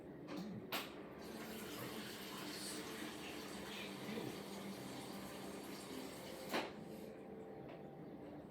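Water runs steadily from a kitchen tap into a container to mix a homemade pink drink, a faint continuous hiss and splash with a couple of brief knocks.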